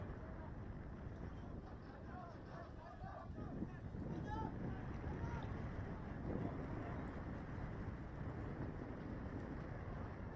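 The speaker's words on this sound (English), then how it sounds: "It's quite windy right now at TMK Arena in Palakkad." Steady wind buffeting the microphone at TMK Arena, Palakkad, during an RFDL 2025-26 football match between Kerala Blasters FC and Sreenidi Deccan FC, a continuous low roar with faint crowd and voices underneath.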